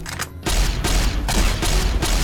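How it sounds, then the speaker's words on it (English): A laser rifle in a Wasteland video game fires in a rapid, sustained volley of loud, dense shots, with a brief gap near the start before the firing resumes and continues without pause. "I'm shooting you with a laser!"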